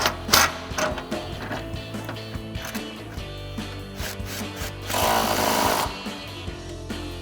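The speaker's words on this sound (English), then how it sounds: "You can go ahead and tighten this back one now, impact and 21mm swivel socket" An impact wrench with a 21mm swivel socket tightening subframe bolts on a 2015-2025 Mustang during a coil-over install, giving loud rattling hammer bursts with short gaps and one longer burst near the end, close by and without talk.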